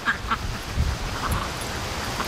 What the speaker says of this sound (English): There's that one duck.